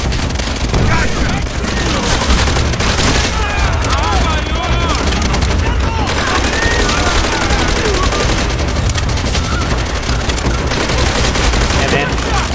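Rapid bursts of gunfire crackle through a video game battle, sustained and dense for the whole stretch, with voices talking over the shooting.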